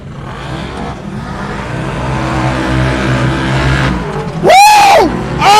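Naturally aspirated UTVs race around a track, a loud steady engine drone with layered revving that swells, then a sharp high rising-and-falling whine as a machine screams past close by, with a second burst at the end.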